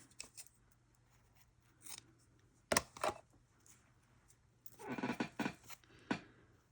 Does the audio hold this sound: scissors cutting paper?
yes